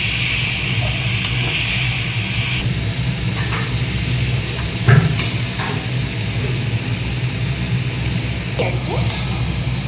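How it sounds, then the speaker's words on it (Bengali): Banana flower curry ingredients with green chilli are sautéed in a pan, making a loud, continuous sizzle with intermittent clatter and scraping from stirring, and no talking. "এগুলোকে ভালো করে কষতে হবে।"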